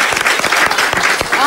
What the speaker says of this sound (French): Ah oui, applaudissez avec pour moi.